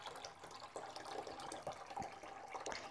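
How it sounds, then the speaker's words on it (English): Tap water pours into the reservoir of an Aerogarden Ultra LED indoor garden, a faint, continuous splashing and trickling with small bubbling surges. "I'm just going to fill it up this way. Takes quite a bit of water."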